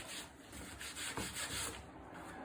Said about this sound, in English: the wire wool I'm using is for a single O, which is coarse wire wool for stripping